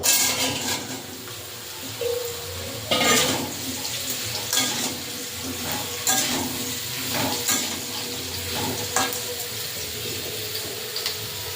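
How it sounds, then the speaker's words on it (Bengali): Raw mango pieces frying in hot oil for a pickle, a steady loud sizzle with scraping stir strokes and bursts of crackling running throughout, no voices. "তেলটা গরম হয়ে গেছে, এবার আমগুলো দিয়ে দেবো।"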